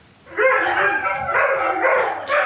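Dogs bark and yip in a loud, steady run of overlapping calls, close by, with no talking.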